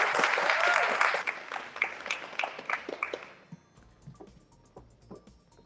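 A book-conference audience applauds loudly for about three seconds, then the clapping thins to a few scattered claps as it dies away.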